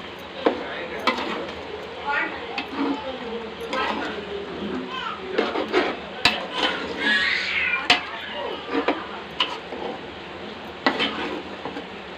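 A spoon stirs chicken curry in a metal pan, making repeated scraping clinks and soft clatters in an irregular rhythm, while someone talks over it.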